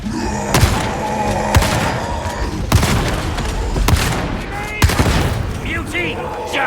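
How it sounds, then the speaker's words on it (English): Gunfire and a grenade explosion in Warhammer 40k: Darktide, with repeated heavy shots and thumping blasts at roughly one-second intervals over a constant din of combat. Game voices call out over the fighting. "Grenade!"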